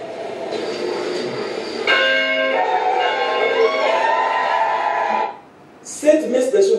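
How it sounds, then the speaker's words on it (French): A newly installed church bell rings at the inauguration and blessing of a parish belfry, its tones sustained over several seconds amid crowd murmur and voices, briefly cutting out before a burst of renewed sound. "la paroisse, la résurrection a une nouvelle cloche"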